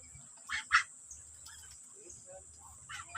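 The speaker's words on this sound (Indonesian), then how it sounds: "Bebek oge." Ducks quacking near rice fields on a harvest morning, a few short quacks at middle distance over steady cricket chirring and faint rural background sounds.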